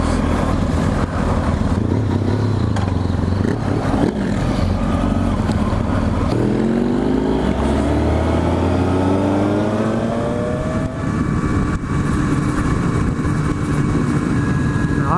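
Kawasaki ZX-10R sportbike engine running steadily while riding on a road, a continuous loud drone with rising and falling pitch sweeps as the rider shifts and accelerates, mixed with wind rush.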